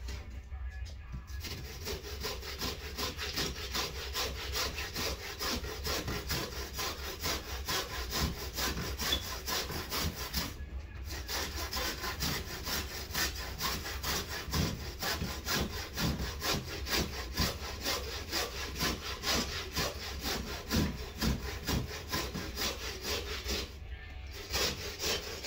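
A rasp works a wooden skateboard deck with steady back-and-forth rasping strokes, continuous and close, with brief pauses at a few points.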